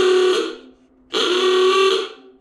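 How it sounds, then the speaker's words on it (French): Old-style horn on a Citroën Traction V12 bi-turbo build sounding two loud, buzzy honks close by, the second held slightly longer. "c'est les klaxons à l'ancienne"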